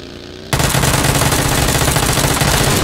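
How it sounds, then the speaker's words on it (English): Loud, dense automatic gunfire from PUBG erupts abruptly after a brief quiet start, a rapid rattling burst of machine-gun fire that continues without pause to the end. "Where the fuck is the guy shooting?"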